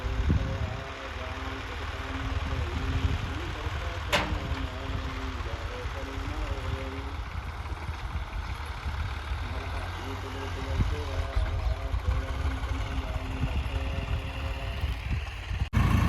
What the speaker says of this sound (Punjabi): ਇਹ ਹੈਗਾ ਟਰੈਕਟਰ